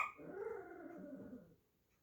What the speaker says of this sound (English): He gets so into his bark that his back legs lift up.